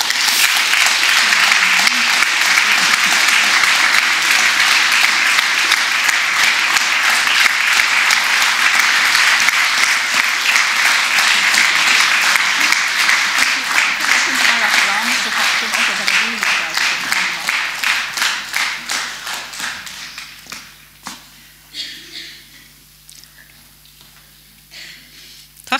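An audience applauds women at a centenary celebration of women's suffrage, a long, loud wave of clapping that holds steady, then thins and fades into scattered claps near the end.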